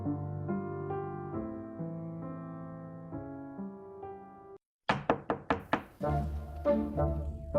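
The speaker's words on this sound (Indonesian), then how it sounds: "Ada yang mengetuk." Someone knocks on a door with a run of sharp, evenly spaced raps, about five quick knocks after a pause in soft tonal background music, loud and close, with music resuming afterward.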